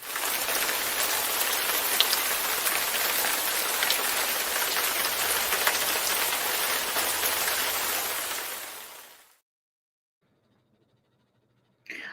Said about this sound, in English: We got quite a rainstorm.